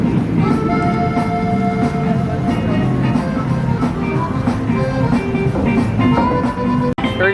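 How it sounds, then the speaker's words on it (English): The Pipeline roller coaster train at SeaWorld rolls onto its launch track: a loud, steady mechanical rumble with rattling and faint tonal whines, then a sharp click near the end. "Here we go, it's on the launch track."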